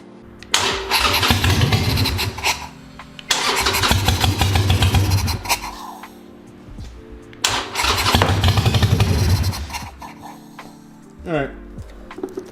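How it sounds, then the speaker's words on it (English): A broken Harley motorcycle, low on gas, fires up and runs in loud rough bursts, cutting out and restarting several times across the clip, with voices talking in between. "We know that the bike runs, and we can move forward."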